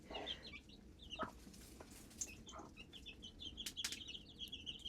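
Chicks cluck and peep softly at close range after eating and drinking, with scattered sharp chirps and a brief flutter of wings over low background noise.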